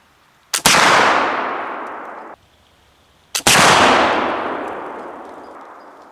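Two loud black-powder shots from a swivel breech gun at an outdoor range, each a sharp crack followed by a long ringing metallic decay as flippy steel spinner targets are struck and spin, a few seconds apart.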